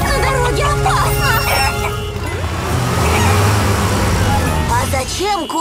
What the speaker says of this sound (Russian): А зачем курочка Ленни переходит дорогу?